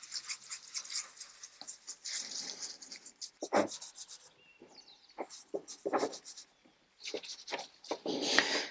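A small spatula spreads filler into cracks in a damaged chair, making close, scraping strokes in irregular bursts separated by short pauses, fairly quiet and with no talking.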